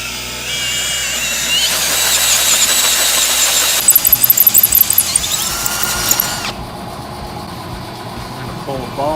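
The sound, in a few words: power drill drilling holes out to a bigger size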